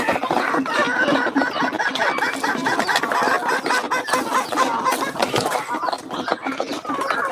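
Chicks and chickens cluck and peep close by in a busy, overlapping chatter of short calls, with occasional louder squawks.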